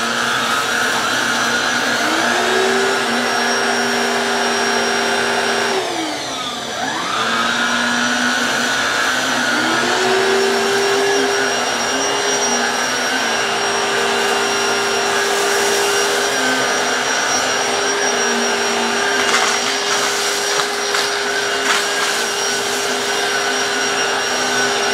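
A Black+Decker PowerSeries 16v cordless vacuum with its brush roll running over a rug, giving a loud, steady motor whine with a brief dip in pitch partway through as the head moves and is pushed along.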